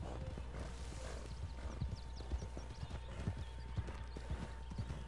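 Steady clip-clop of a Morgan horse's hooves trotting in Red Dead Redemption 2, with an occasional whinny, over a constant low background hum and faint music.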